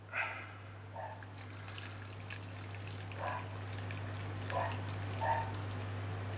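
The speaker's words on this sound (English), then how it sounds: "The porridge. And 3 deciliters of boiling water." Boiling water is poured into a pouch of freeze-dried porridge, giving faint intermittent splashing and trickling bursts over a steady low hum.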